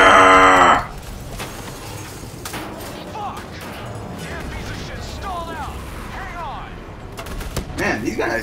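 Gunfire in the video game Black Ops III, a loud burst of shots at the start followed by a busy combat mix with chirping, warbling electronic sounds and scattered impacts, with a voice talking over parts of it.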